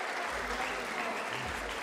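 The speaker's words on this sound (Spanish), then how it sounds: "El aplauso del público para este muchacho David Félix." Crowd applause at a boxing event, steady dense clapping from the audience in an arena, with some voices mixed in underneath.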